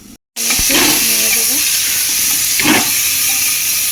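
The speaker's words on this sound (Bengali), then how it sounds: "বাটারটা দিয়ে দেবো, এলাচ, তেজপাতা, গোলমরিচটা দিয়ে দেবো" Butter with cardamom, bay leaf and black peppercorns hits a hot pan for chicken stew, setting off a loud, close, continuous sizzling hiss with a few brief rattles as the spices drop in, after a split-second silence.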